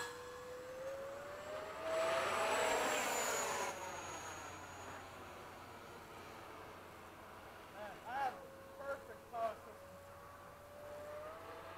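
An Eflite 80mm F/A-18D electric ducted-fan RC model jet flying over a runway after sunset, a whining turbine tone that swells as it passes and fades, with a few brief bursts later and faint talk underneath.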